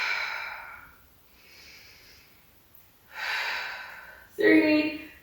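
Loud, close breaths during a Pilates and HIIT upper-body workout: a long exhale, a softer breath, then two deep forceful sighs and snorts, each ending abruptly, with brief quiet pauses between.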